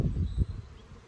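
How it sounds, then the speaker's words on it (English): A low, steady buzz of bees hums close by, swelling and fading slightly over a second. "Man, look at all the bees."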